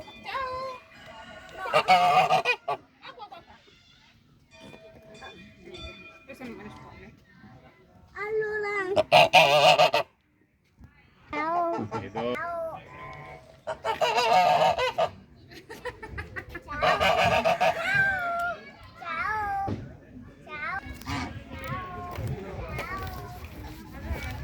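Geese honk in loud, repeated bursts at close range in a large park in Vicenza, Italy, with people talking around them throughout.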